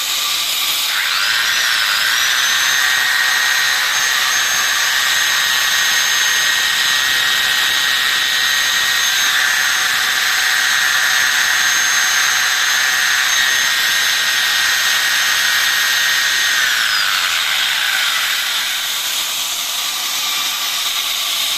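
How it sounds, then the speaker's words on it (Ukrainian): A rotary hammer drill gives a loud, steady whine with a high-pitched tonal hiss, running continuously for most of the stretch before winding down near the end. "І перфоратор."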